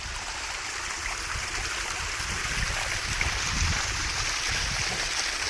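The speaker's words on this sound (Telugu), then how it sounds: "చూడండి వాటర్ అనేది ఎట్లా వస్తున్నాయో అక్కడి నుంచి పైనుంచి." A small waterfall pours water down from high above during the rainy season, giving a steady, broad rushing and splashing that holds constant throughout with no voices.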